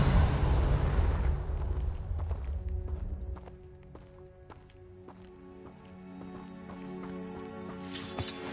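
A Confringo fire spell in the video game Hogwarts Legacy lands as a heavy, low explosion that rumbles and dies away within a few seconds, followed by light scattered taps and clatter of game activity.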